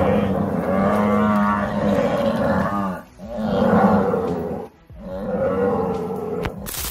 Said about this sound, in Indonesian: kawanan kerbau itu menyerang macan tutul bertubi-tubi dengan penuh kemarahan